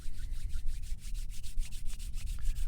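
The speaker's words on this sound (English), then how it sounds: "rub your hands together" Palms rubbing briskly together, a close, dry, rhythmic swishing friction sound repeated steadily with no talking.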